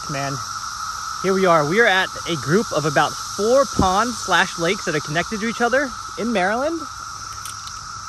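Cicadas buzz in a steady high, hissing drone around connected ponds and lakes in Maryland, continuous and fairly loud beneath someone speaking close by throughout.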